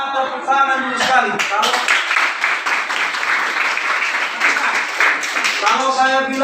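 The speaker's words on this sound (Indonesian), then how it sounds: "Tepuk tangan dulu sekali" A class of students claps hands together at the teacher's prompt, a burst of brisk group clapping between stretches of talk and laughter at the start and end.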